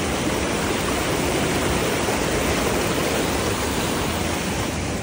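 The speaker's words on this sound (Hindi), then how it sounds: "ये पहुंच गए हम लोग गंदा वाटरफॉल" A jungle waterfall with murky water, a dense, continuous roar of falling water that fills the whole scene evenly and loudly, with no voices.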